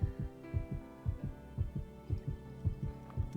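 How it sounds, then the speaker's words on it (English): Rhythmic double-thump heartbeat in the game Potion Panik, deep and close, pulsing steadily at a slightly quickened pace over a low hum. "Your heartbeat's thumping a little faster than I think would be for courage."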